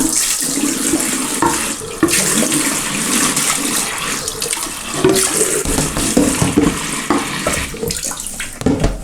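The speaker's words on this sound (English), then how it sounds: "Then I'm going to add a bit of warm water." Warm water runs steadily from a tap for several seconds, a continuous splashing gush filling a container for cleaning a quail cage, loud and close.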